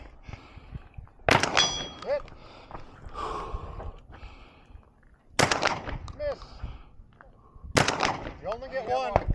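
Three loud, sharp shotgun slug blasts at a 3-gun shooting match ring out at spaced intervals, each followed by a short decay, with faint talk and movement between shots.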